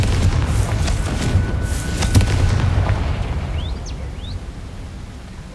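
A Confringo fire spell explodes in Hogwarts Legacy with a loud rumbling boom that slowly fades, and a few faint chirps follow at the tail.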